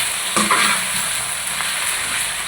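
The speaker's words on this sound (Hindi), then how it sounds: "थोड़ी देर इसमें फ्राई करूँगी इसमें और फिर मैं बाकी चीज़ें ऐड करूँगी।" Continuous hissing sizzle of onions frying in a hot pan, with a couple of faint stirring scrapes.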